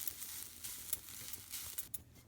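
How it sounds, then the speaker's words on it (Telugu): Grated coconut dry-frying in a pan over a medium flame: a soft, even sizzle with light crackles and faint stirring scrapes, close and fairly quiet throughout. "ఇలా కలపెట్టి మాడకుండా మంచిగా మీడియం ఫ్లేమ్ పెట్టి వేయించుకోవాలి."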